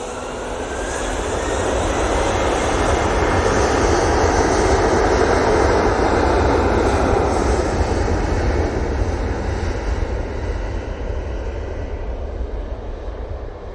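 A jet airliner departs Manchester Airport on its way to Amsterdam, a loud sustained engine roar that swells over the first few seconds and then holds steady, close and dominant.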